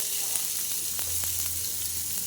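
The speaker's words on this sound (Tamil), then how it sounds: "இது கொஞ்சம் நல்லா வதக்கணுங்க" Finely chopped onion fries in oil in a kadai, a dense, loud, steady hiss of sizzling with a few faint stirring ticks, close up and with no voices.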